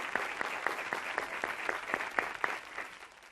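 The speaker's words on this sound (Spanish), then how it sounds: "Yo creo que el señor Cazorla se merece un aplauso." Studio audience applause on a Spanish television quiz show, a steady patter of clapping from many hands with a few sharper claps standing out, moderately close and unbroken with no talking.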